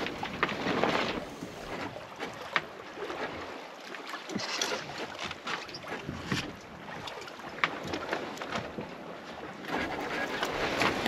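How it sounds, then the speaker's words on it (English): Genoa sail coming down and being hauled in hand over hand on a sailboat at sea, with steady wind rushing across the microphone and rustling, flapping fabric throughout. "Then I'm taking down the Genoa"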